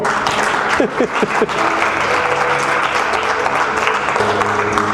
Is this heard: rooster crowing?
no